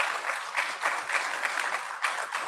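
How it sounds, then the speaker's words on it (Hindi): Audience applause in a Bombay auditorium, steady dense clapping sustained throughout at moderate loudness, with a few swells and no talk over it. "बहुत अच्छी बात है कि बम्बई में लोग ताली बजाते हैं"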